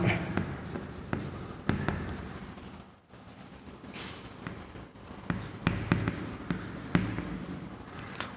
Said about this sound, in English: I will write here